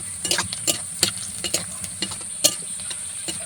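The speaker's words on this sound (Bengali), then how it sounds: "তাই ভাজার জন্য ঝাল পেঁয়াজ সরিষার তেল কড়াই দেখেন নাড়াচাড়া করছি" Banana flower fries in mustard oil in a wok, with a soft steady sizzle under repeated scraping and clinking strokes of a spatula as it is stirred.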